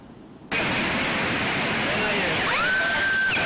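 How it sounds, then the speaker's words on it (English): Flash flood water rushes through the roads of Nogales, a loud, broad roar that starts abruptly and holds steady, close to the microphone with no clear voices. "The roads turned to rivers."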